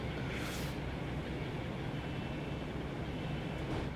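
Diesel locomotive from the Great Western line in Train Sim World 2, a steady low engine rumble with rail noise running continuously and evenly throughout, fairly quiet.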